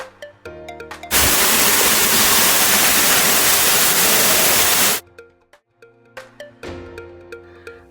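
A waterfall in the hills at Dariyanagar bursts in as a dense, roaring rush of water for about four seconds, framed before and after by music.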